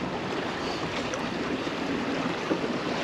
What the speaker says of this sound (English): you can tell we're in Christchurch Bay because the bloody rolling waves are back